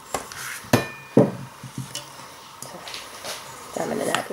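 A utensil mixes loosened butter into egg whites in a bowl for a yema cake, giving scattered close scrapes and sharp knocks with quieter gaps between them. A person talks alongside.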